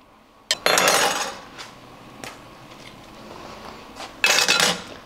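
Juices pressed out of food in a metal strainer, a couple of loud scraping, clattering bursts of spoon against mesh separated by a quiet pause, close by with no speech.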